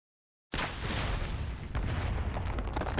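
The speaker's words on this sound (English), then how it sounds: "He's using arts energy to make shockwaves." A heavy shockwave blast from an arts attack in the video game Arknights erupts suddenly after a half-second of silence, then rumbles on as a loud, dense, sustained roar with no voices over it.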